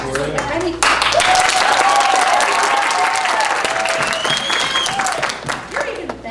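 A school audience at a Toad of Toad Hall performance practises loud clapping and cheering, a dense burst of applause with shouts and whoops that swells then tapers, some voices rising above it.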